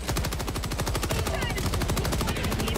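Rapid automatic gunfire from an enemy in the co-op shooter game Helldivers 2, a loud, dense rattling burst of evenly spaced shots running nonstop, close and heavy over the game's background noise.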